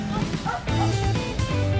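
A rescue dog yips and barks during a disaster prevention training exercise in Kashiwa, Japan, close by and mixed with ongoing voices talking.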